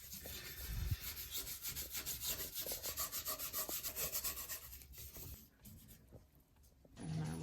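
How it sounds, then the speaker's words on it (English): A vinegar solution is rubbed by hand onto a wooden hot tub base, giving a steady rhythmic scrubbing swish, faint and close, with regular back-and-forth strokes that slow near the end. "I'm gonna rub it on here"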